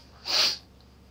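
A single sharp sniff of an imperial stout beer, close and breathy, rising and fading within about half a second, with quiet room noise around it.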